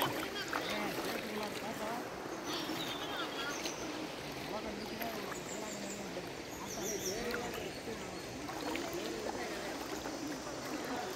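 Rainwater rushes through a stream in Veerappan forest, a continuous, fairly faint burble and splash of running water with someone talking over it.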